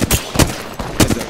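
Gunfire in Apex Legends crackles in quick repeated bursts, sharp close shots clustered in pairs and triplets over about a second.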